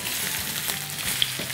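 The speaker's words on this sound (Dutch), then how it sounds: "En dan bakken we alles nog een minuutje of 5" Potatoes fry in a pan for a Spanish potato tortilla, giving a steady, close sizzle with small crackles and pops throughout, no voices over it.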